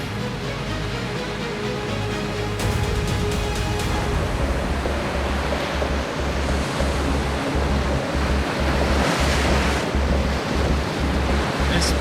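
Ocean waves roll in over a reef ledge, a broad continuous roar of surf with heavy wind buffeting the microphone throughout, loud and close, no speech.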